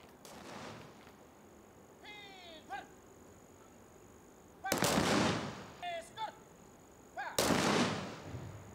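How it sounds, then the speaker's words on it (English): Ceremonial police gun salute fired in honour of martyrs, heard as two loud, sharp volleys a few seconds apart, each with a booming rolling tail, with faint calls or whistles in between. "a gun salute was offered to the martyrs"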